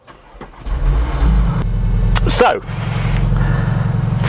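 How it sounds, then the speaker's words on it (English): A 2021 Cupra Formentor VZ2, a 310-horsepower compact SUV with four-wheel drive and a seven-speed DSG, is started nearby. It cranks briefly and then settles into a loud, steady idle, with a short spoken word at the start. "Let me just fire the car up."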